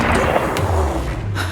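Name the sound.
gunshots fired from a gun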